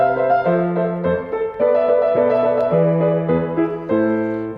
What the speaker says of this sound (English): here's an example of a short piece by Vivaldi from his Concerto Grosso, Opus 3.